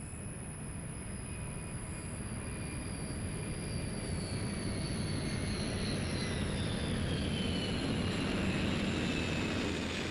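A NASA Boeing 747 Shuttle Carrier Aircraft carrying space shuttle Discovery on landing approach at Kennedy Space Center: a loud, continuous jet engine roar with high whining tones that slowly slide downward.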